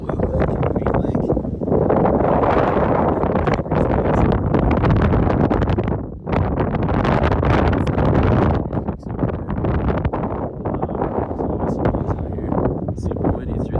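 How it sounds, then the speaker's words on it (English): Strong gusting wind buffeting the microphone in a couloir on Longs Peak, a loud, roaring rush that dips briefly and surges again, with a voice partly buried underneath. "Super windy through this couloir."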